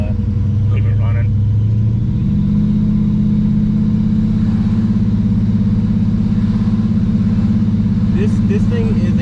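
A 1987 Monte Carlo SS V8 engine held at half throttle, a loud steady droning rumble with deep pulsing exhaust throughout, while people talk over it.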